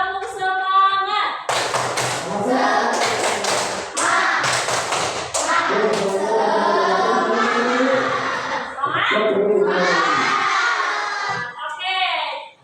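Schoolchildren in a classroom perform the rhythmic 'tepuk semangat' clapping chant together, sharp patterned claps mixed with loud chanting children's voices, close and lively, after a brief spoken lead-in.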